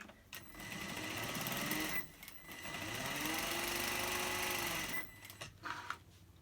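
A sewing machine stitches a fabric face mask in two sustained runs of fast, whirring needle motor, each stopping abruptly, followed by a few brief handling clicks.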